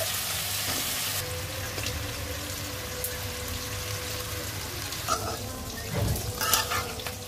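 Beans with seeds and new potatoes fry in a pan beside crisping fish, a steady close sizzle with occasional stirring scrapes and clinks of a utensil against the pan.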